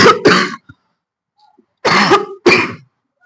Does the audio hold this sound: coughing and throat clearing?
yes